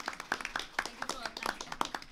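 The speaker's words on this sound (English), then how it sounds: "I would like, yes, a big applause, but first of all for Lina" Scattered, sparse clapping from a conference panel audience, honoring the panel organiser at a data-protection event; individual claps stand out irregularly rather than forming a full ovation, fairly quiet and close.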